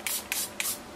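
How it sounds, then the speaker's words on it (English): Three short hissing bursts of alcohol spray mist onto freshly poured cold process soap, close up and evenly spaced. "Spray that with a little alcohol,"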